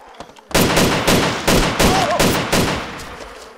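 Loud, close gunfire from DayZ cracks out in about six evenly spaced heavy shots, each with a sharp attack and decaying tail, following a brief quiet stretch with faint talk.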